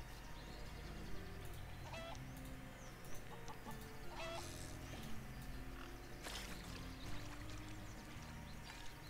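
A chicken clucks in the video game Craft The World, short repeated clucks scattered over a busy bed of game music and pouring water effects, fairly quiet throughout.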